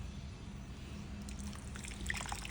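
Water pours gently onto potted vegetable plants in an indoor planter, a faint, continuous trickle and splash with a few brighter drips near the end.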